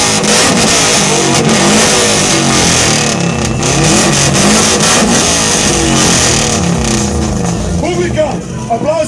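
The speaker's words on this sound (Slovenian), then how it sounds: "Zdaj pa da slišimo bokser motor od Impreče." A Subaru Impreza's boxer engine revs loudly and close at a Japanese car meet exhaust battle in Ljubljana, its sustained growl mixed with crowd noise and talking.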